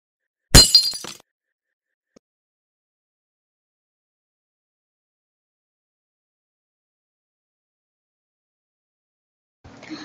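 An egg breaking, a single sharp crack and brief shatter near the start, then long silence with a faint rustle at the end.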